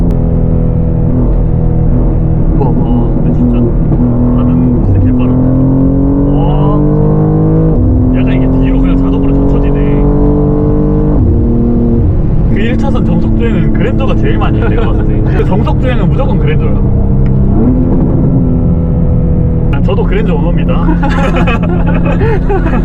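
BMW M2 accelerating hard from a standstill, a loud continuous engine roar climbing in pitch through repeated gear changes, with people talking over it inside the car.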